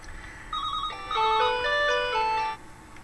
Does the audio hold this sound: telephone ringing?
yes